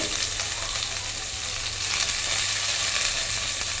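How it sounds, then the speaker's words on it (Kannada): Chopped palak spinach sizzling and frying in a pan, a steady close hiss of crackling oil with faint stirring. "ಸೊ ಇದು ಬೆಂದಾದಮೇಲೆ ಇದಕ್ಕೆ ಚಿಕ್ಕದಾಗಿಟ್ಟಿರೋಂಥ ಪಾಲಕ್ ಸೊಪ್ಪನ್ನ ನಾನು ಹಾಕ್ಕೊತಿದ್ದೀನಿ."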